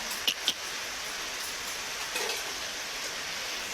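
Continuous rain hissing evenly, with a couple of sharp drips or knocks near the start and a faint low rumble passing midway.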